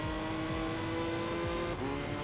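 Race cars from Enthusia Professional Racing roar steadily on a track, a loud continuous engine drone with a faint passing car behind a wall and a brief tire squeal near the end, no talking.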